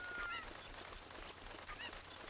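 A Cucco chicken in The Legend of Zelda: Ocarina of Time gives a couple of short, honking squawks, fairly close and clear, with brief pauses between calls.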